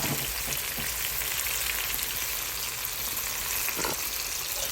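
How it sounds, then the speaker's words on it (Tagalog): Ground beef sizzles and fries steadily in a pan with chili flakes, a constant crackling hiss close up, with a few brief stirring scrapes and no talk. "Lutuin lang natin yung ground beef natin."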